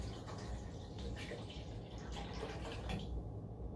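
Half a gallon of milk poured into a saucepan, a steady soft liquid splash and trickle running continuously for a few seconds, fairly quiet, with no talking.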